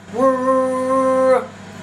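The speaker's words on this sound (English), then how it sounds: "that is the air fryer preheating" An air fryer preheating in a home kitchen gives off a single steady, buzzy electronic tone that holds for a little over a second and then cuts off, fairly loud and close, with no talking.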